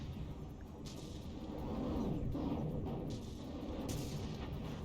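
Missile volley battering a tank in the video game From The Depths, a quiet, steady rumble of distant impacts with faint whooshing bursts, no voices.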